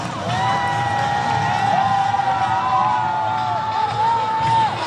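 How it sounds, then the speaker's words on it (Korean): Stadium crowd at the opening ceremony of the 2024 Eumseong county sports festival cheers and whoops steadily as an athletes' delegation marches onto the field, a sustained dense roar with shouting voices and a tonal sweep over it. "여러분 힘찬 박수 부탁드리겠습니다."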